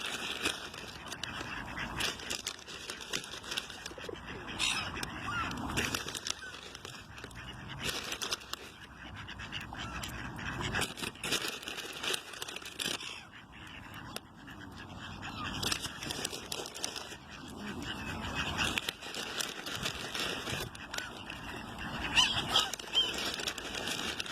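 Geese honk faintly in the distance among ducks, pigeons, magpies and scattered bird calls and rustling in Örebro, Sweden, with a person speaking quietly at times.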